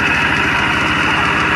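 A tractor ploughing a field runs at a steady, loud, close beat with an even rhythm and a constant droning hum, and no voices are heard.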